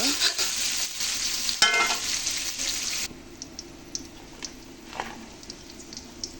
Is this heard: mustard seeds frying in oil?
yes